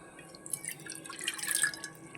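Water is taken for making tea in a home kitchen, with light, close drips and splashes that grow busier toward the end, and no talk.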